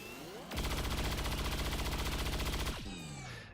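Sustained burst of rapid automatic gunfire from XCOM 2 Long War of the Chosen, aimed at a Muton, runs loud and dense for about two seconds before ending abruptly, with the game's ambient hum under it.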